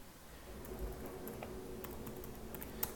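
Typing on a computer keyboard while entering multiple-choice options into a questionnaire: soft, irregular key taps, close by and fairly quiet, with a few sharper clicks over a low background hum.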